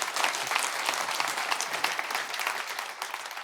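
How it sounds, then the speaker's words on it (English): Keynote audience at a Blackhawk Network conference breaking into applause, a sustained, fairly soft burst of many hands clapping with no talk over it. "Round of applause."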